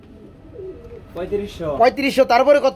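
Gola pigeons for sale, soft low cooing heard briefly at the start before a voice takes over and talks loudly over the birds.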